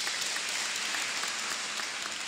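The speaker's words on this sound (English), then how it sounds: "And I think that deserves a hand of applause." Audience at a university graduation ceremony in Malawi applauding, a dense, even roar of many hands clapping that stays steady and loud across the whole short stretch with no voices.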